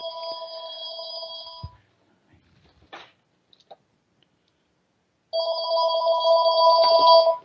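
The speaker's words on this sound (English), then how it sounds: "I apologize for the phone in the background." An indoor telephone ringing with a steady electronic trill, two bursts separated by a few seconds of quiet with faint clicks, fairly loud and without speech.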